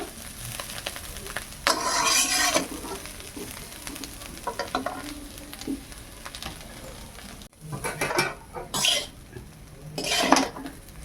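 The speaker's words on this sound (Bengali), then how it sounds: "আমার ডাঁটা ভাজা প্রায় হয়ে আসছে, আমি আর 2 মিনিট ভালো করে একটু নেড়ে নেই" Drumstick stems frying in a pan, steady sizzle broken by bursts of a metal spatula scraping and clanking against the pan, close up with no talk.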